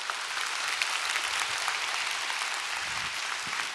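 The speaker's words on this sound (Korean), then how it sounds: "멋진 강연 들려주신 손상무 박사님께 다시 한번 큰 박수 부탁드립니다" Applause from a lecture audience at a Seoul National University public science talk on the James Webb Space Telescope: dense, steady clapping from many hands, evenly sustained throughout with no voices.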